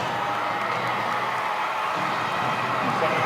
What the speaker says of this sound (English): You can hear everybody cheering as he gets into the ball game